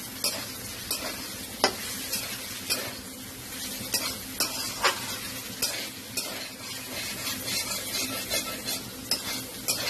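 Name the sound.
maurola fish being stirred and sautéed in a pan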